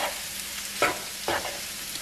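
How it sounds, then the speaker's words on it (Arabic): Onions frying in a pan for Mosul-style Iraqi kibbeh, a soft steady sizzle broken by two scraping stirs of a utensil close by. "بس حمسنا البصل."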